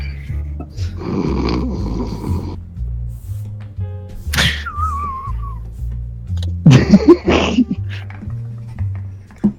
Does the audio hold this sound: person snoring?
yes